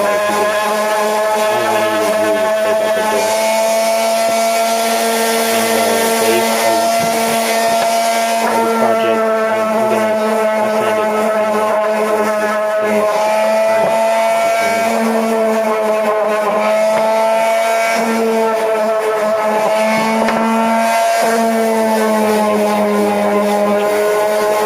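A power sander runs on reclaimed wood with 320-grit sandpaper, giving a loud, steady motor whine that holds without a break for about twenty-five seconds, its pitch wavering slightly as the sanding pressure shifts.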